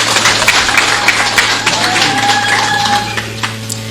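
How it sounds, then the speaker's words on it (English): Applause from the audience at a presidential swearing-in ceremony for Peter Mutharika in Malawi, a steady crowd clapping wash with scattered sharper claps, continuous and fairly loud over a low hum. "Another round of applause for His Excellency"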